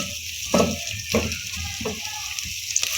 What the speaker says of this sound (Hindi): 3 से 4 मिनट तक प्याज को भून लेंगे